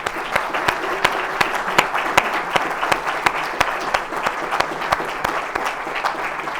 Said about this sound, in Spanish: Le pido un aplauso.